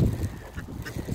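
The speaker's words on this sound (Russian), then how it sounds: "кушать просят птички" Ducks begging for food in winter, a few short nasal honking calls close by against a noisy background.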